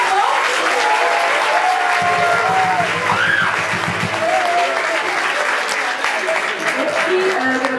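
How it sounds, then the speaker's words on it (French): A school audience claps steadily throughout a talent show, a full, sustained round of applause with a few voices mixed into the crowd noise. "Donc, on donne une main d'applaudissement pour Nicolas, Camille, Malika et Joseph."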